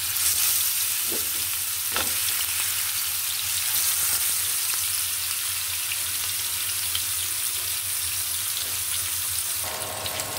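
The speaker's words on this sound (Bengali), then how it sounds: "ইন্ডাকশন চুলায় আমি মাছটা ভেজে নিলাম" Fish frying in a pan on an induction cooker, a steady close sizzle running throughout with faint stirring and a few small clinks.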